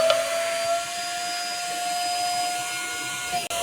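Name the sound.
Zolele wet and dry spot cleaner vacuum running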